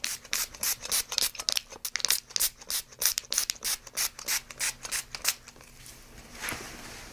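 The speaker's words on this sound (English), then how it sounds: "I'm going to scrape these spine muscles a little bit" Rhythmic scraping strokes of a tool drawn along the muscles beside a patient's spine, a steady series of close, crisp rasping passes that slow and fade toward the end.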